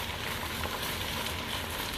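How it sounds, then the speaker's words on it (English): Crushed red pepper being stirred in a hot pan gives a steady, close sizzle and frying hiss throughout, with no voices. "Now, to kick it up a little bit, I'm going to add some crushed red pepper. We're going to stir this."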